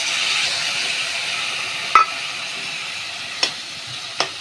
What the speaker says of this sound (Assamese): এতিয়া মশলা ভাজিম মই